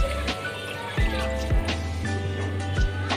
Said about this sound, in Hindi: अब इसके अंदर हम पानी डालेंगे 2 गिलास।